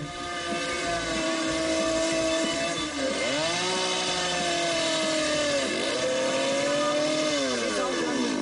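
A chainsaw runs loud and steady in a movie trailer, its engine pitch dipping and rising again twice as the throttle changes, with voices talking over it.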